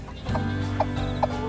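Chickens cluck in a few short, separate calls close by, over a steady low hum in the background.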